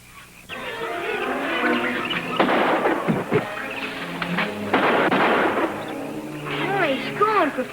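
Pistol gunshots ring out in an Amazon jungle adventure film, several sharp loud bangs scattered across the scene among music and other soundtrack noise, with speech-like sounds mixed in.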